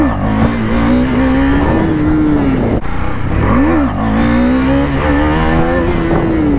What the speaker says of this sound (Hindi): ऐसे यहाँ पर एक व्हीली ट्राई करते हैं।